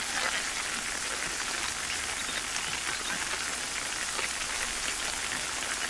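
Steady rain falling on a rural scene with cattle standing out in it, a dense, even patter that runs the whole time without letup and with no voices.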